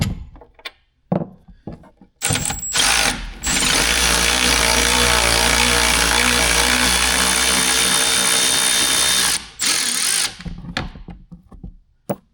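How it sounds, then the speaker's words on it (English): An electric ratchet whirs steadily for several seconds as it runs out the bed bolts on a Ford Super Duty truck, bracketed by short bursts and clicks of the tool starting and stopping. "can use electric ratchet or anything you want to get in there. Run these bolts out"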